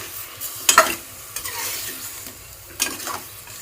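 Chicken pieces sizzle in hot ghee as a spoon scrapes and stirs the pan, giving a few sharp clinks over a steady background fry.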